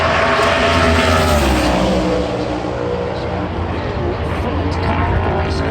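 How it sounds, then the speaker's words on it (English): A NASCAR Toyota Camry race car roars on the racetrack, a loud, continuous engine howl that fades somewhat partway through, with commentary speech heard over it. "Bubba Wallace brings the Xfinity Mobile Toyota Camry up on the racetrack"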